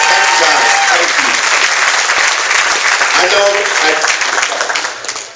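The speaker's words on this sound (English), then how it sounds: "Everybody, our ambassadors, let's give them a round of applause." Loud sustained audience applause at a Successful Thinkers meetup relaunch in Elk Grove, welcoming the event's ambassadors, with voices mixed into the dense clapping before it fades near the end.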